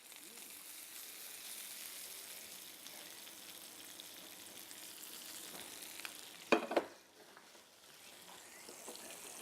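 Shrimp with green mango fries in a pan at a cooking class, a low steady sizzle under soft stirring with one sharp clatter of utensil on pan near the end.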